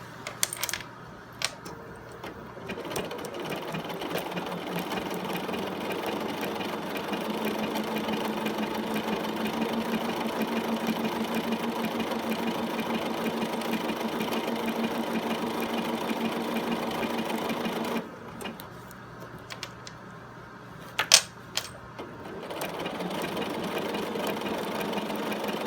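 A sewing machine stitches a back pocket onto a denim jeans leg, a steady close mechanical whir running for long stretches, pausing briefly, then resuming with a few sharp clicks.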